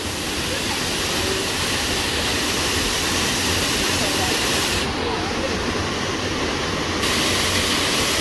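Chander waterfall in Malvan, Konkan roars as a steady, dense rush of falling water, loud and unbroken throughout, with no clear voices over it.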